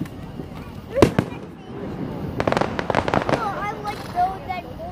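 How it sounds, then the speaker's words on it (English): Fireworks burst in a series of sharp cracks and pops, one loud bang early and then a rapid cluster of crackling explosions, with people talking and reacting nearby. "I love the noise of fireworks."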